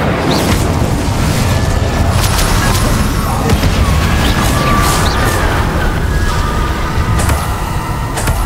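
A fiery Incendio spell explodes in Hogwarts Legacy, heard as a dense, continuous roar of crackling blasts and bursts that stays loud and close throughout, with faint voice-like sounds mixed into the clamor.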